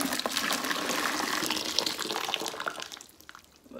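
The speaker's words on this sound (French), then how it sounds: "Je commence par mettre l'eau chaude." Hot water pours steadily into a container to whiten laundry, a continuous close splashing gush that tapers off near the end.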